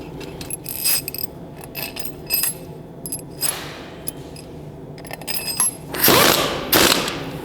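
A ratchet wrench turns bolts during pre-assembly in a repair job, giving quick bursts of clicking that start and stop repeatedly, close up, with no talk.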